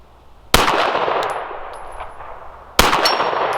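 Two sharp pistol shots from a Lone Wolf Dusk 19 at a 50-yard range, each a loud crack followed by a ringing tail, spaced a couple of seconds apart, with a faint high metallic gong ring between them.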